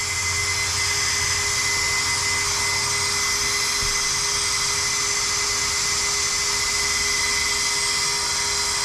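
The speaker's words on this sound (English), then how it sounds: "All the fans are still working." Cooling fans on an Arrma Outcast EXB 8s RC car with a Castle MMX8S 800kv setup whine continuously, a loud, steady high-pitched whir with a faint tonal hum beneath, running alone without pause.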